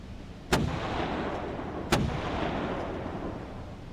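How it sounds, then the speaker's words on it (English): Two loud, sharp cannon blasts from the video game Dagon, spaced about a second and a half apart, each with a short rumbling tail over a steady bed of ambient noise. "Shooting cannons!"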